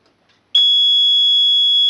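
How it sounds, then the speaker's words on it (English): A security alarm control panel sounds its exit delay warning: a single steady, loud electronic beep tone that starts abruptly after a brief quiet moment and holds continuously without pause. "That's the beep that says you can leave."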